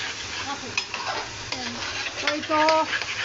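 Spices fry and are stirred in a pan for aloo dum, with a steady close sizzle and scraping strokes, plus a brief faint voice-like tone near the end.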